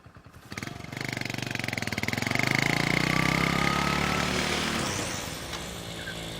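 A motorcycle starts with a quick kick, then its engine putters in a rapid, steady rhythm that swells as it pulls away and slowly fades, close and loud without talk.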